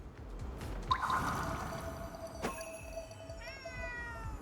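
In Ghostwire Tokyo, a game cat lets out a clear meow, then a softer second call a few seconds later, set against a low ambient hum with light dripping water.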